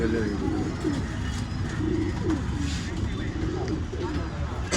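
Old line pigeons offered for sale in Bangalore coo softly in a steady low murmur, with light bird calls and faint human voices in the background.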